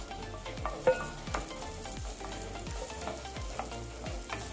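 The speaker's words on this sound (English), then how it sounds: "On a pan with medium heat, add a tablespoon of oil. Then we saute the onions." Onions sauteing in a tablespoon of oil in a pan over medium heat: a continuous close sizzle with regular stirring scrapes roughly every half second, no talking.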